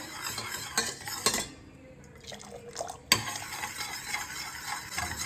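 Sugar syrup for sugar moulds stirred continuously in a pan, close and fairly quiet, with a steady bubbling hiss, light drips and occasional clinks of the spoon against the metal.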